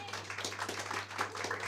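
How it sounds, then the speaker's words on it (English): Brief scattered clapping from a small audience at a LARP convention, applauding visiting Greek participants; light, close hand claps over a low steady hum. "applause for our Greek friends"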